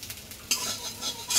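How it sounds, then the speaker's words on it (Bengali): Ludus sweet being stirred in a pot, two quick bursts of spoon scraping against metal over a low sizzle, close and brief with no talking. "লুডুস নাড়া দাও।"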